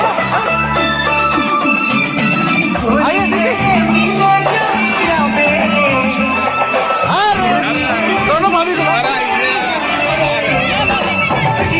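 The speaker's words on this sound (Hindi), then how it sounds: "एक बार जोरदार ताली, जोर से सब बजाओ।" A large audience at a teachers' day event keeps up loud cheering, whooping and shouting, dense and continuous, with excited chatter mixed through it.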